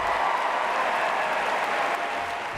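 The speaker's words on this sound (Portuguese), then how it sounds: "Ela arrancou aplausos a cada frase do discurso de apoio a Hillary Clinton." A large convention crowd in Philadelphia applauds Michelle Obama's speech backing Hillary Clinton, a dense, sustained roar of clapping that fades slightly toward the end.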